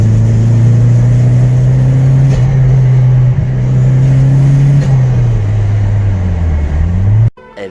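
A turbocharged Toyota MR2 rat rod on a street pull, its engine droning loud and close, the pitch climbing through gears with shifts and dips, then cutting off abruptly near the end.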